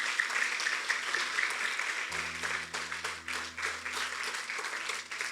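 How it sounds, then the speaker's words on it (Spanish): A church congregation claps together in a sustained, moderately distant round of applause, with a low hum and murmuring voices underneath. "Denle un aplauso al Señor."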